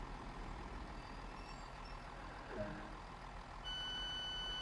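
A train braking in the Train Sim World 2 game: a steady mechanical rumble with a brief whoosh of brake air midway, then a sustained tonal whine settling in toward the end, no talking.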